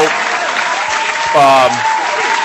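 Studio audience applause on a football talk show, a steady wash of clapping that runs through the clip, with a voice talking briefly over it partway through.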